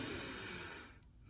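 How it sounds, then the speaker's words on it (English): A single anxious breath, heard close and soft, drawn as a breathy rush that tails off into quiet. "I'm breathing."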